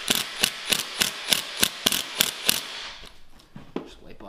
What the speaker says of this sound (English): I'm using a nut driver for this, or an impact gun